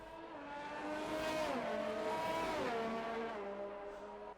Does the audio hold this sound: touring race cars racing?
yes